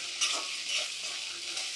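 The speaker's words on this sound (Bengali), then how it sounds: "এটিকেও ভালো করে পেঁয়াজের সঙ্গে মিশিয়ে নেব, ভালো করে ভেজে নেব যাতে আদা রসুনের কাঁচা গন্ধটা চলে যায়।" Ginger garlic paste fries with onions in hot oil, a soft continuous sizzle with faint stirring swishes over a brief stretch.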